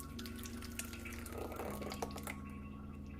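Thick blended carrot and sweet potato punch pours steadily from a blender into a container, a continuous close liquid stream with small splashy bursts and no voices.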